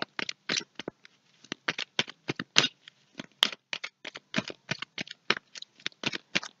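A deck of cards for a reading is shuffled and drawn by hand in a quiet room, a long run of quick papery riffles and flicks in uneven bursts, close and fairly soft, with no voices.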